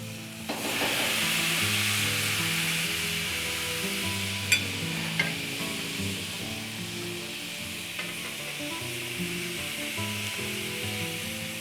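Flank steak sizzling on a grill for churrasco, a steady loud frying hiss that starts abruptly as the meat goes on and continues throughout, with a few small clicks and pops.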